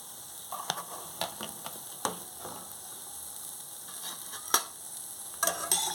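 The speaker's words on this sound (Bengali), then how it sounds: "তেলটা গরম হয়ে গেছে ভালো করে এরপর দিয়ে দিচ্ছি পেঁয়াজ কুচি টমেটো কুচি আর লঙ্কাটা" Chopped onion, tomato and green chili fry in a little hot oil with black cumin, giving a steady soft sizzle broken by light clicks and scrapes of a spatula stirring, close and quiet, with no speech.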